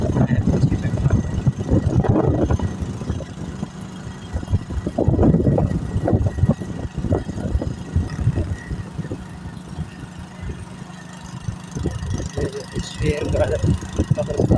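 A motorbike engine hums steadily while riding with a passenger on the back on the way to a fair, the motor drone mixed with wind buffeting, and someone talks over it at intervals.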